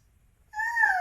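A cat's meow, a single clear rising-then-falling call that starts abruptly after a moment of near silence and holds for about half a second, close and fairly loud.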